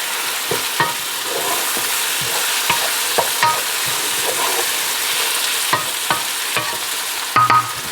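Pork cooks down in lard in a pot for baked beans, a steady sizzle broken by repeated scraping stirs and clinks of a utensil, close and alone.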